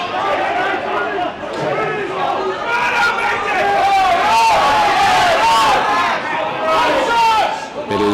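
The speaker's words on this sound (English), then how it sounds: "crowd screaming at the assistant referee to step in" Spectators at an amateur rugby union league match shout and yell over a continuous crowd roar, with a commentator talking over the noise throughout.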